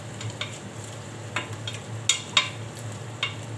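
Meat frying in a pot while being stirred, a faint, steady sizzle under a low hum, with scattered sharp scraping clicks of a utensil against the pot.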